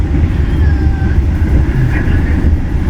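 Steady low rumble from inside a moving Majapahit economy new-generation passenger train, a continuous loud drone with faint high squeals over it.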